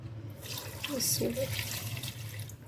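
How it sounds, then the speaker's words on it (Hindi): Water pours steadily from a tap into a cooking pot for beef yakhni pulao, a continuous splashing rush at close range that runs under soft background sound throughout. "और अब हम इसमें डालेंगे पानी"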